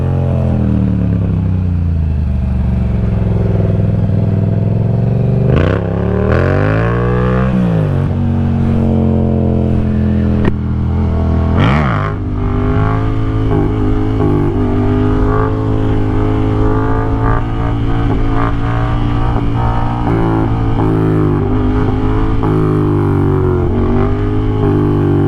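A Yamaha FZ07 motorcycle engine revs up and down repeatedly, close and loud, with rising and falling pitch and sharp blips, then settles into a steady, throaty idle with no talking.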